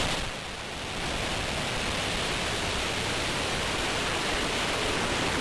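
SpaceX Falcon 9 rocket roaring after liftoff: a dense, steady rumbling noise that swells within the first second and then holds evenly loud and broad, distant and continuous with no voices over it.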